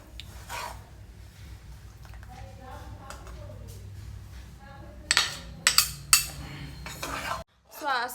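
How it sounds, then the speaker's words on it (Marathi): Semolina roasting in ghee for rava ladoo, stirred continuously in a pan, with a low steady scraping and a run of sharp metal clinks toward the end as the spoon strikes the vessel; a voice talks faintly underneath. "सो असा रवा तुम्ही भाजून घ्यायचा आहे. सो आम्ही आता रवा भाजून घेतोय."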